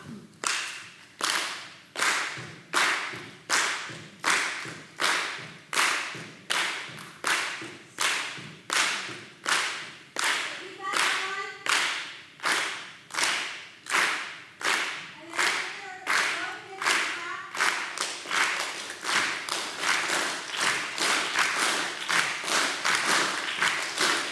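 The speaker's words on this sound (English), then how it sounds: "On this side, please copy me with some hand claps" A group claps in unison, copying a leader's hand-clap rhythm at an alumni day gathering: sharp, evenly spaced claps in a steady repeating pattern, growing denser and louder toward the end, with faint voices briefly audible.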